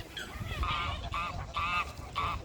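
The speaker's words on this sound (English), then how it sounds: "And here's the geese." Geese honk repeatedly at a park pond on an autumn walk, five or six nasal calls in uneven bursts, moderately close over a low outdoor rumble, with no talk.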